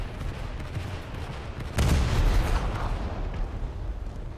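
Ship guns on the HMS Leopard frigate in the War Thunder naval battle game fire high explosive rounds, one heavy booming shot landing midway over a low rumbling background, loud and close.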